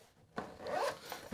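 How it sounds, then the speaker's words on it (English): Plastic zipper on a pen case being opened, a short soft rasping pull after a brief pause, followed by a quieter continuation of the zip close to the microphone, no voices. "we have a nice zipper, which is a plastic zipper"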